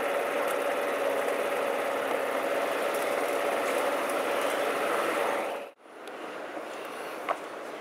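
A scooter motor runs steadily at a close, even drone with a buzzing mechanical hum during a test ride, cutting out abruptly near the end before a fainter hum resumes.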